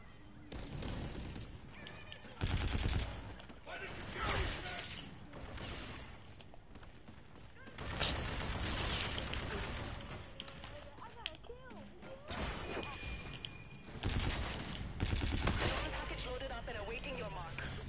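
Gunfire from a gun in a video game comes in repeated loud bursts of rapid shots, separated by short lulls, with people talking over the action.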